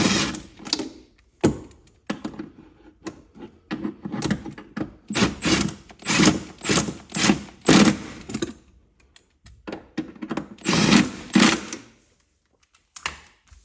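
Impact wrench on auto setting nipping up rear camber arm bolts on a Honda CB7 Accord, sounding in a rapid series of loud, close bursts of whirring and rattling hammering with short pauses between.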